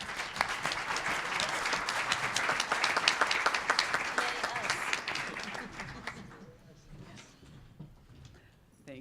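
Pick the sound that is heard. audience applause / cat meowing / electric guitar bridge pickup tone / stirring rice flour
audience applause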